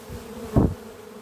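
Bees flying around the hives at an apiary, a buzzing hum throughout with one louder, closer pass of a bee briefly swelling in the middle, no talk.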